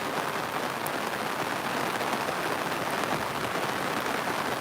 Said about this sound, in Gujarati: સવારે ચાર વાગ્યાથી વરસાદ ચાલુ છે